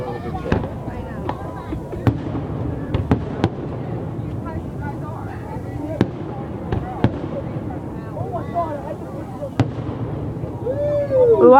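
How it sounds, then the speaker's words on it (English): A loud fireworks grand finale at a park show cracks and booms in sharp bursts at irregular intervals, some nearby and punchy, over a continuous rumble of distant explosions, with crowd voices in the background. "The grand finale's loud."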